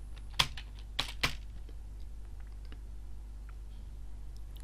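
A few quick keystrokes on a computer keyboard, three distinct taps close together near the start, then quiet room tone.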